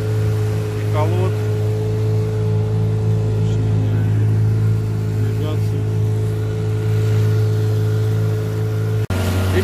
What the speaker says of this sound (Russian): ребята, а моторчик-то пашет